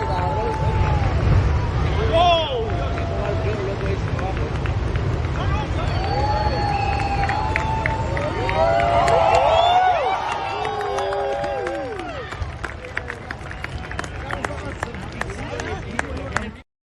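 A lively crowd whoops and hollers with rising and falling shouts over a constant roar of mixed voices and chatter, holding loud throughout before easing near the end.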